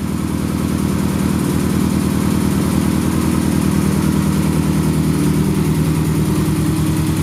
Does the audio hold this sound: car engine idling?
yes